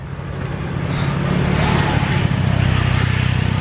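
A motorbike engine on a hill road up Monkey Hill in Phuket swells and passes close by, loud and rumbling, with a steady roar throughout.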